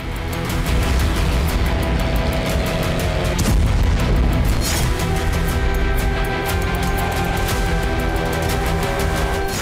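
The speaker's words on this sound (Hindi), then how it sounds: "यूक्रेन ड्रोन हमले से जोरदार धमाका हुआ" A deep, rumbling blast from a Ukrainian drone strike in Russia, with a long roaring, crackling aftermath that fills the scene, loud and sustained with no voices.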